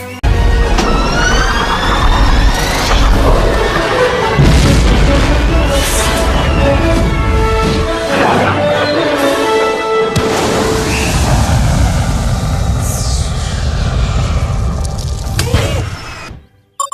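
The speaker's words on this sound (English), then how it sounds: "We have liftoff." A cartoon rocket lifts off in The Loud House with a loud, sustained roar and rising whooshing tones, full and close for about fifteen seconds before cutting off abruptly.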